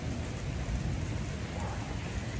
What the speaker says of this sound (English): So it's gonna be a pretty big storm.